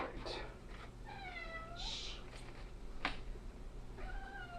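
A house cat meows in a kitchen during meal preparation, several drawn-out rising and falling meows spaced across a steady background hum, fairly close and clear.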